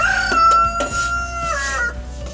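A rooster from a backyard group of roosters kept with several chicken flocks crows nearby, one long, loud, drawn-out call with a rising then falling tone, and other fowl murmur faintly in the background.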